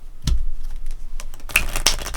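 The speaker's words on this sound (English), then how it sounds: "I like to be good to my cards and not bend them, but there's something so satisfying about shuffling" Thick playing cards for the board game Solus Lost are shuffled nearby, producing bursts of crisp riffling clicks and snaps, with a denser flurry toward the end.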